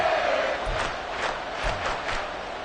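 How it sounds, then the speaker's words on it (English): Football stadium crowd at an NFL game against the Texans swelling before a big third down, a dense, steady roar of cheering and shouting that carries on throughout. "The crowd getting into it as we come up on a big third down."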